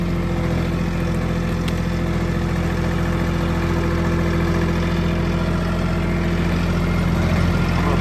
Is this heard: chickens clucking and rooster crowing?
no